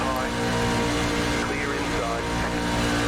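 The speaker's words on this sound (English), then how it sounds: "Just hearing that engine note change so much because of the wind." A NASCAR truck engine at Daytona in iRacing drones as a loud, dense, steady roar at speed down the backstretch, with wind-like rushing noise filling the whole sound and a voice talking over it.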